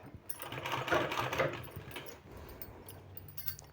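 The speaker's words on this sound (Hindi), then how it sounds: "इसका दोनों साइड हमको इस तरह से सिलाई लगाना है।" A sewing machine runs a short burst of stitching along both sides of two-colour fabric strips for a sleeve design, a steady close whir that swells and then fades into lighter mechanical ticking.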